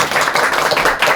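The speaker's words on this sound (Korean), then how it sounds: "여러분 용기 내서 와주신 질문자에게 박수 한번 주세요." An audience at a Korean lecture claps for a questioner, a dense burst of applause that is loud and close and fills the whole short moment.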